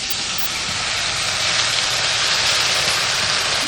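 Ash gourd slices sizzle in hot oil in a home kitchen, a steady, loud, even crackling hiss that holds throughout with no voices.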